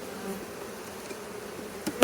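Honeybees at an open beehive give off a steady, soft buzzing drone, with a couple of brief louder buzzes close by near the end.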